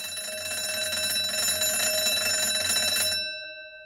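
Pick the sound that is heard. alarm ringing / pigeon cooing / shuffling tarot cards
alarm ringing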